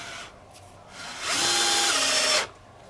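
A cordless screwdriver whirs for about a second, spinning out a screw up close, with quieter handling noise before it.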